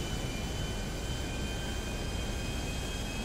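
A steady airplane engine drones in the video game GTA V, a constant broadband roar with a faint high whine, even in level throughout.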